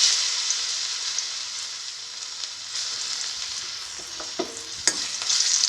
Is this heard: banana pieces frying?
yes